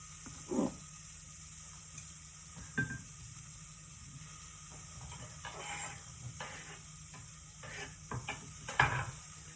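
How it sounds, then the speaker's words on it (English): Cumin seeds sauté briefly in a pan with a soft, low sizzle under a steady background hiss, broken by a few light scrapes and taps of a utensil. "I really love to put the cumin. Just a little sauté, not too much."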